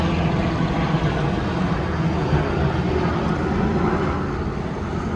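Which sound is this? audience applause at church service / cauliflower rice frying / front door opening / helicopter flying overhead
helicopter flying overhead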